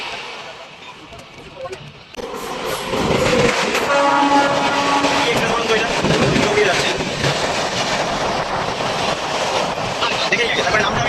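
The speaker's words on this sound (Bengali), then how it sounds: "হাওড়া টাটা নগর জনশতাব্দী মনে হচ্ছে" A Howrah–Tatanagar Jan Shatabdi express train passes on the South Eastern Railway, its loud rumbling roar and clatter swelling in after a quieter start and continuing steadily, with voices audible beneath.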